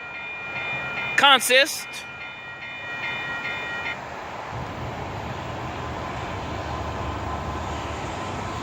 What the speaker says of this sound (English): CSX's Q453 with his main headlights completely out. That's not normal. 4 locomotive